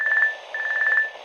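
A phone ringing with an electronic ringtone, two quick trilling bursts in a rising-and-falling pattern, clear and close, with no voices over it.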